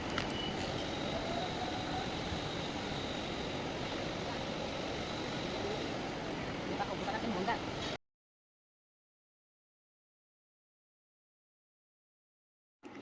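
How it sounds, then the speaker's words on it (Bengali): Steady rumble of a passenger train in motion on the way to Kalyani, loud and continuous for about eight seconds with faint squealing tones above, then cutting to silence before a brief return at the end. "ট্রেনে করে যাচ্ছি কল্যাণীতে"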